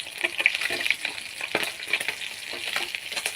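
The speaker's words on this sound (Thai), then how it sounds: "ปลาเมื่อคืนนี้ทอดอุ่นค่ะ" Leftover fish being fried to reheat it, a steady close crackle and sizzle of hot oil with small spits and pops throughout, no voices.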